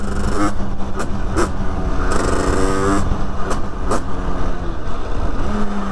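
A moped fitted with an 86cc Top Alu cylinder kit, engine overheating, runs loud and close with continuous buzzing drone and short rising revs throughout.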